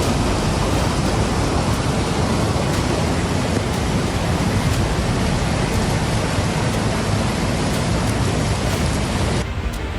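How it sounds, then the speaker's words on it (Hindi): Floodwater rushes fast around a temple after heavy rain overflowed the Khodiyar dam on a river in Tatania. A loud, dense, continuous roar of churning water fills the whole stretch with no voices. "मंदिर के चारों ओर तेज रफ्तार में सैलाब बह रहा है।"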